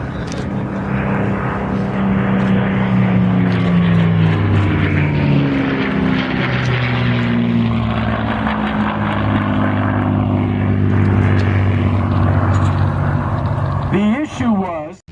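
Propeller drone of a North American P-51 Mustang fighter with a Merlin engine at a World War II weekend airshow, loud and steady throughout with shifting engine tones, someone talking over it.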